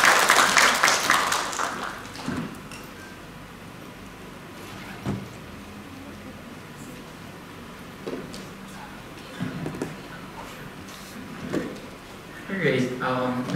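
An audience at an expert sharing session gives welcoming applause to a speaker, a burst of clapping that fades within a few seconds, followed by a quieter room with scattered knocks and speech near the end.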